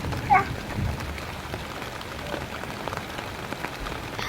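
Rain falling around a house under construction, a steady, soft patter of drops on surfaces, fairly faint and continuous throughout with no talking.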